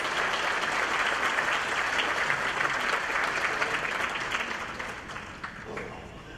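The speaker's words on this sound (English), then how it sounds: "please give them a warm round of applause" A gala dinner audience gives a warm round of applause for anthem performers, a full, sustained wash of many hands clapping that holds steady and then gradually thins and fades toward the end.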